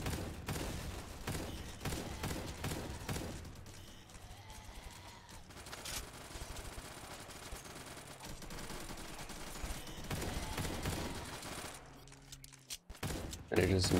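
Rapid shotgun blasts from a co-op zombie shooter game, spammed between reloads in a dense, loud stream of gunfire that runs for most of the stretch, with voices talking over it.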